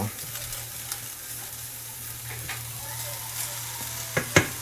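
Ginger and chili fry in a pan for salt and pepper shrimp, giving a soft, steady sizzle under a low hum, with scattered stirring scrapes and a couple of sharper utensil clinks near the end.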